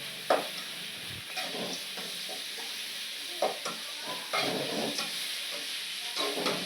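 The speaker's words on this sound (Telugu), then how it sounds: "వేసి ఇవి కొద్దిగా మంచిగా ఫ్రై చేసుకోవాలా" Onions and chillies with rock salt fry in a pan for a village-style country chicken curry, a steady close sizzle broken by repeated stirring scrapes and taps.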